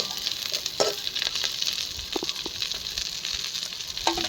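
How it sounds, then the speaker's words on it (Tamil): Curry leaves and mint sizzling and crackling steadily in hot oil, with occasional soft scrapes of stirring in the pan. "இப்போ பார்த்தீங்கன்னா கருவேப்பிலை புதினா எல்லாம் நல்லா வதங்கிருச்சு"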